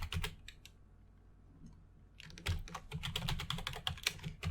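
Computer keyboard typing Python email code: rapid, close clicks, a brief burst, then a quieter pause, then a dense, steady run of keystrokes.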